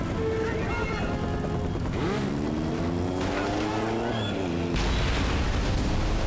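A smart bomb strike in the Mercenaries 2 video game detonates in a heavy rumbling boom near the end, after a droning motorcycle engine, with someone talking over the game action throughout.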